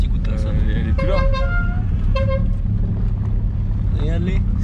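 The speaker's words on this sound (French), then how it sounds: "On a juste le droit de mettre un petit coup de klaxon." A Peugeot 106 car horn gives two short, close honks about a second apart, with a fainter rising toot near the end, all over a steady low engine and road rumble inside the moving car.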